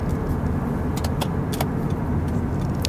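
A 2003 Toyota Camry on a test drive produces constant, even road and engine noise from inside the cabin, with a few light rattles and ticks over the short stretch.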